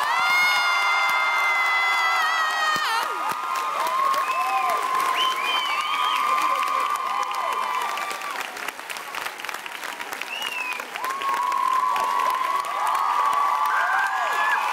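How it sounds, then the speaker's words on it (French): Loud, continuous applause and cheering from a packed audience at the Aix-en-Provence premiere of the film Fiston, with whoops and shouts rising over steady clapping for about fifteen seconds. "1, 2, 3, un tonnerre d'applaudissements"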